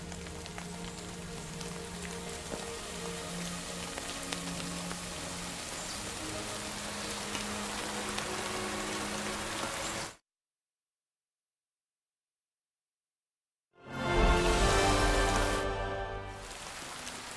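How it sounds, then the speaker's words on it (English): Steady rain pours down in the game Kingdom Come Deliverance II, a dense even hiss that cuts out to silence midway and then returns, loud at first. "Fucking rain."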